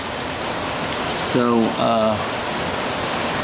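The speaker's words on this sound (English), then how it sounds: "we're just getting a lot of rain" Heavy rain falls steadily during a very rainy Gulf Coast season, a dense continuous hiss throughout, with someone speaking briefly over it partway through.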